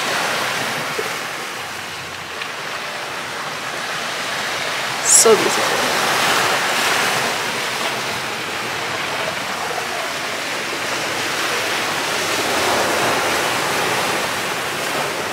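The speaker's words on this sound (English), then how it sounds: "just listen to the ocean" Ocean waves washing onto a beach in Jamaica, heard from a beachfront balcony as a steady broadband surf wash with gentle swells, with a brief voice speaking over it.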